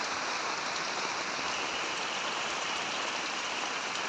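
Steady rain falls outdoors during a loan-checking visit to a neighborhood, heard from beside a shop: a dense, even hiss that stays constant throughout with no voices.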